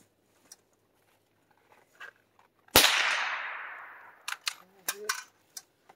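A Savage Mark II rifle fires one sharp, loud shot at a target outdoors, its report ringing out and decaying over about a second, followed by quieter clicks and knocks of handling.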